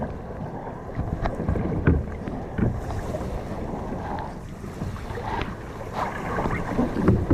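A Perception Outlaw kayak is flipped over in water, with sloshing splashes and hull thumps amid gusty wind noise on the microphone, fairly close and moderately loud.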